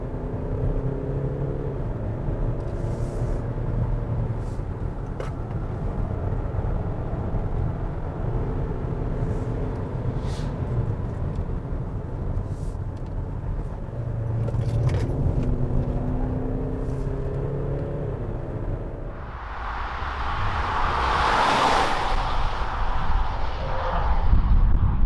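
A 2020 Kia Sorento diesel cruises on the road, giving a steady low rumble of engine and road noise that swells now and then, ending with a louder whooshing pass of air or traffic.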